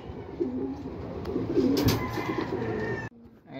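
A racing pigeon coos in soft, repeated low phrases as it lands after a 162 km training race in Pozzorubio, Pangasinan, close and steady, then breaks off abruptly near the end.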